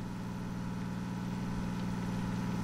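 A heavy sugarcane-hauling truck's engine revs steadily while accelerating in first gear on a dirt road in World Truck Driving Simulator, a constant loud mid-to-low drone with no voices.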